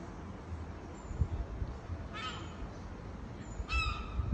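Two crow caws ring out a short distance from a balcony, harsh and separate, over a soft outdoor background hiss.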